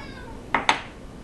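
Two quick, close meows from a cat, a short double call over low background hum.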